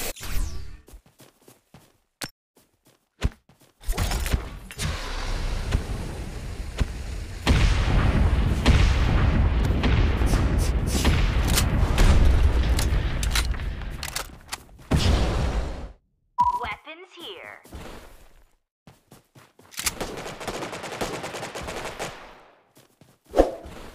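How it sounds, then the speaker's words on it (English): Bursts of machine-gun fire, artillery booms and explosions from an incoming bombardment in the video game Omega Legends, loud and close, with a sustained heavy barrage in the middle and scattered shots and blasts before and after. "Warning, incoming bombardment."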